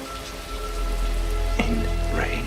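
Steady rain pours in the Blade Runner tears in rain scene, a dense hiss with low rumble underneath and a few brief tonal sounds rising out of it.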